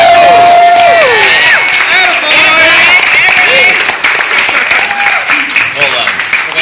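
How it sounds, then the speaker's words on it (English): A crowd at a toast gives a round of applause for Ryan, loud sustained clapping mixed with cheers, whoops and voices that keeps going throughout. "How about a round of applause for Ryan,"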